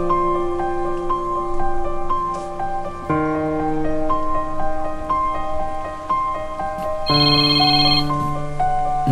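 A cellphone rings loudly with a repeating synthesized melody, bright tonal notes stepping through phrases for several seconds with no voices over it.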